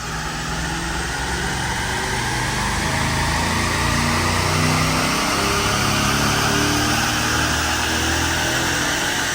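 A bone-stock Chevrolet Suburban with a 5.3 LY5 V8, running 87-octane fuel, roars loudly and continuously on a dyno in third gear. The engine revs climb steadily through the whole pull, with no voices.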